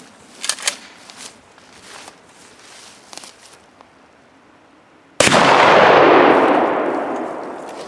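A shotgun slug is fired into a stack of laptops: faint clicks and handling noises first, then a single loud, sharp blast that rings out and slowly fades.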